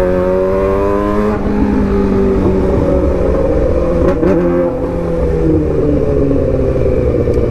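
A 2008 Suzuki GSX600R sport motorcycle pulls hard in fifth gear, its engine note loud and close, a steady rising drone with strong wind rush throughout.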